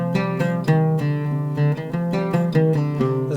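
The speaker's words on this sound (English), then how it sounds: "And rast in C sounds like this." Oud plucking a rast maqam in C, a short rising and falling run of distinct picked notes played close and evenly, solo with no voices.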